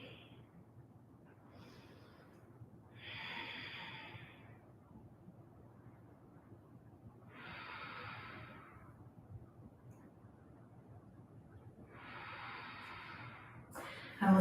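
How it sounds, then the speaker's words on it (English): Slow, deep breaths during a guided yoga practice, three long soft hissing exhales spaced several seconds apart, close and quiet against a low steady background hum. "Breathe."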